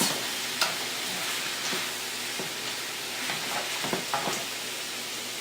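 Frozen vegetables sauté in a hot pan, producing a dense, steady sizzle close up, with a few soft stirring knocks scattered through the short stretch and no voices.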